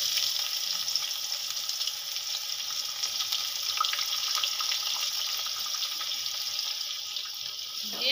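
Chopped onion frying in oil over whole cumin, bay leaves, dried chillies and whole garam masala, making a continuous, even, moderately loud hiss with no voices.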